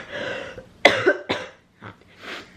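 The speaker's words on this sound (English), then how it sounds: "I've started with a cough now" A woman coughs a few times up close, short harsh bursts with a brief throat-clearing rasp, separated by quiet gaps.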